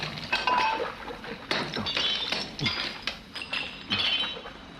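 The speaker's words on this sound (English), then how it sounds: "it sounds like fine china being smashed" Smashing fine china as a movie sound effect: a run of bright clinks and crashes of breaking porcelain and glass, several separate hits in quick succession, close and fairly loud, with no talk.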